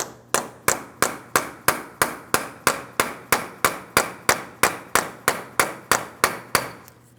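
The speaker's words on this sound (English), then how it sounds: "continue on with a hammer and punch directly in the center of the front axle" Steady metallic hammer blows on a punch against the front axle of a 2007-2014 GMC Sierra 2500 HD ring out one after another, about three per second, sharp and close with no talking.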